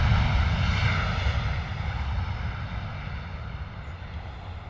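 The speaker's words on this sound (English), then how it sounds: "very nice landing from Ryanair" A Ryanair airliner rolls along a high-speed taxiway exit after landing at London Stansted, its engines a loud, steady roar that fades slightly over a few seconds.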